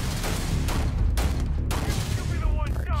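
Gunfire in the video game Starfield comes as a rapid string of loud, booming shots, about five heavy reports in three seconds, with a voice briefly heard.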